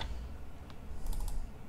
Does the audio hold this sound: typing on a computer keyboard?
yes